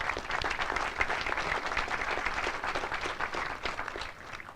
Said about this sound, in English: We give them another round of applause.